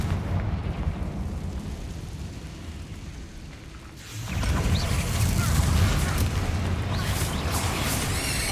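A Confringo blasting spell explodes in the Hogwarts Legacy game, a sudden loud burst that turns into a sustained roar of fire and debris over constant game ambience, with no speech.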